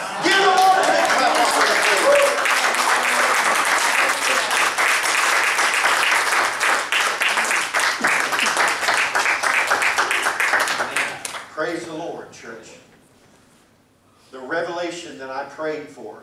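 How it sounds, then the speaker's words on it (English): A church congregation at a Sunday service claps loudly and steadily for about eleven seconds. The clapping then fades and a voice speaks over a quiet room. "Give the Lord a big clap."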